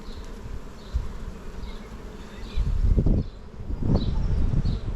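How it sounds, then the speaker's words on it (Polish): A dense hum of honeybees buzzing continuously around an open hive nearby, with occasional soft rustles and bumps of hive frames rising above the drone. "Pszczoły aż wiszą."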